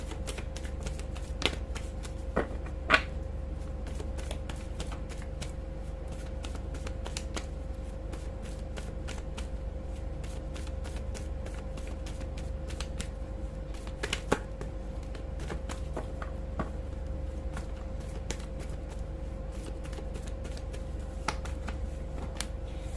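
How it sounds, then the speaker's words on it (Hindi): Tarot cards are shuffled by hand, a quiet continuous riffle and flutter of card stock with scattered sharper snaps and taps over a steady low background hum, and no talk. "जब तक मैं कार्ड शफल कर रही हूँ"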